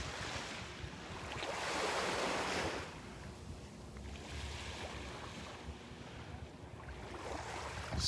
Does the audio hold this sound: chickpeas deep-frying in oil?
no